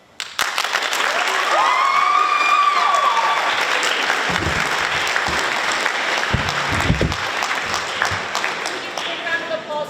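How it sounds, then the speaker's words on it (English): An audience at a high school speaking contest gives contestants a sustained round of applause, loud and close, with a few voices and cheers mixed into the clapping for nearly ten seconds. "Big round of applause to all of our contestants."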